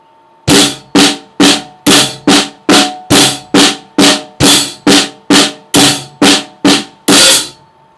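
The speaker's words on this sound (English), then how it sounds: "you guys who didn't see Sean Lang's, he showed us the Swiss Army triplet, which looked like this at a slow tempo." Swiss Army triplet drum rudiment played at a slow tempo: a steady run of about sixteen crisp, evenly spaced drum strokes with sharp attacks and short ringing decays, close and loud, with no talking.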